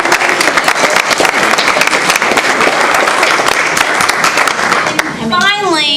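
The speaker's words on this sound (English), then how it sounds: "Let's give Ms. Clark a round of applause" An audience claps steadily at a school board meeting honoring a staff member, loud sustained applause with sharp individual claps throughout, and a voice begins speaking near the end.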